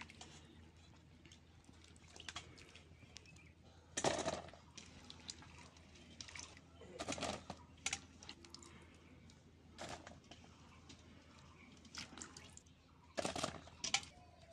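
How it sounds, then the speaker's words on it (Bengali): Green jackfruit and potatoes washed together in water, with intermittent splashing bursts and sloshing a few seconds apart over quiet background. "এবার এঁচোড়টা আর আলুটা একসাথে ধুয়ে নিচ্ছি।"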